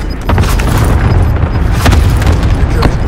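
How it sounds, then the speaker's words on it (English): A cluster strike in the Rebirth video game lands as a loud, rolling barrage of booms, several bursts crowding together over a sustained rumble. "Enemy cluster strike incoming."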